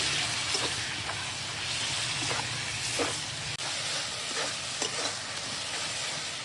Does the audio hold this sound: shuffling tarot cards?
no